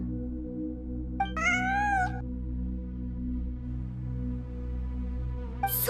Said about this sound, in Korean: 그렇게 난 고양이의 울음소리를 따라 빠져나왔어